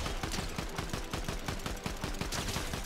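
Rapid automatic gunfire in Fortnite, a steady rattling stream of sharp shots fired at an enemy, loud and close with no talking.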